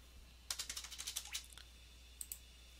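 Quick burst of keystrokes on a computer keyboard typing into a search menu on an Ubuntu 14.04 Budgie desktop, a rapid run of close, crisp clicks followed by a pause and two more taps.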